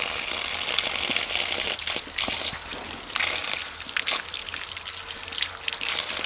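Water poured over someone as a prank, a close continuous trickle and splatter of drops with scattered small impacts, no talk.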